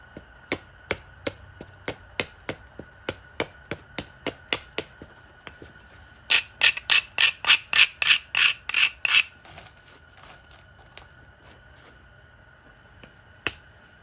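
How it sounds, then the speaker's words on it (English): Flint knapping with direct percussion: a long series of sharp, clicking strikes on stone at a steady rhythm, then a denser run of brighter, ringing hits, and one last isolated crack, close and clear with no talk. "I better take the flake right here and clean up some of this to give this flake a better chance of peeling off good and smooth"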